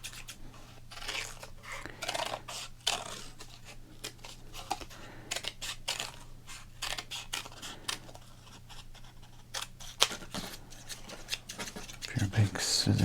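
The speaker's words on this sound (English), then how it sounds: "let's do some quick cutting up here." Scissors snip through minor league baseball cards with a quick series of close, crisp cuts and rustles, irregular in rhythm, under soft talk.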